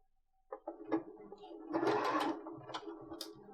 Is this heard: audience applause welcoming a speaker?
no